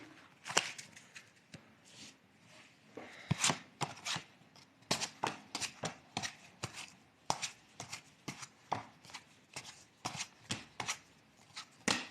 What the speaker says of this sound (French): il faut que je retrie mes cartes